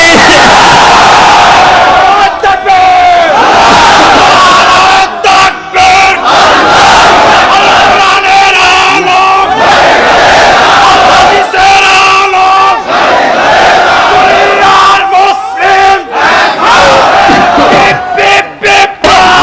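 A large crowd at a religious gathering roars the takbir chant in loud, rhythmic, repeated bellows, voices surging together in close, sustained waves.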